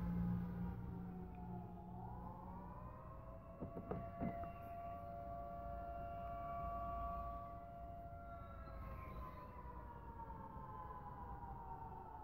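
Distant air raid siren wails across the soundscape, its steady rising and falling tone holding for the full stretch over a low background hum, with a few brief knocks partway through.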